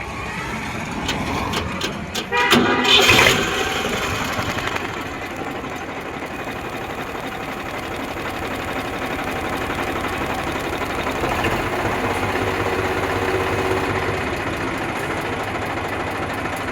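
An Eicher 368 diesel tractor with a Ricardo engine rumbles steadily at idle after a brief burst of louder mechanical clatter near the start; no one speaks.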